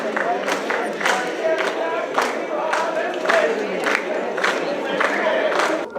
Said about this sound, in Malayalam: ആരാധകരുടെ നാടൻ പാട്ടുകളും കയ്യടികളും